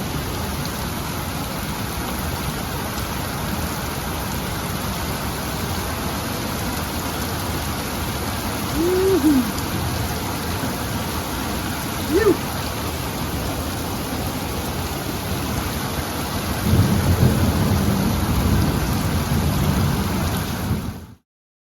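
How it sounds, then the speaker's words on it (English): Heavy rain pours steadily in Leakey, Texas, a dense continuous hiss on the driveway, with a couple of faint low thunder rumbles partway through and a louder swell of downpour near the end. "30 minutes of heavy rain."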